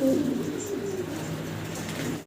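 Danish fancy pigeons cooing close by, a low soft throaty coo at the start followed by steady murmuring calls over light background hiss, cutting off abruptly at the end.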